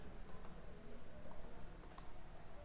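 Someone types Python code on a computer keyboard, a scatter of faint, light key clicks over a steady background hiss, with no speech.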